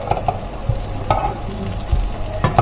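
Butter sizzles in a pan with oil, a close, steady frying crackle broken by occasional scraping clicks from a utensil.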